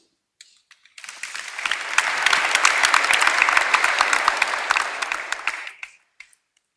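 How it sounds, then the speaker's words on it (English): A conference audience gives the business forum panelists a warm round of applause, with dense clapping that swells quickly, holds steady for about five seconds, and then tapers off into a few scattered claps. "A warm round of applause for our panelists"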